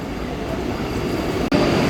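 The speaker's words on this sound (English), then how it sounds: "Vande Bharat is coming right after we came to the platform number 1." Vande Bharat express train pulling into platform 1 at Lonavala railway station, a steady loud rumble of rolling wheels and carriages filling the whole stretch, with a brief dropout near the end.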